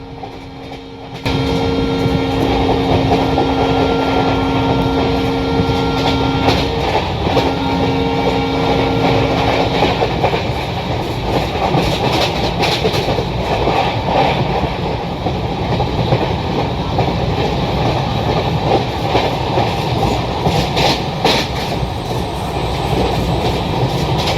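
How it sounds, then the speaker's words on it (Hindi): A train in the Train Simulator Railworks game runs through a no-halt station at speed, giving a loud, continuous rumble with rhythmic wheel clatter and a steady tone that fades partway. "हमारी ट्रेन यहाँ पे क्रॉस कर रही है अपने कोई एक और नो हॉल्ट स्टेशन को"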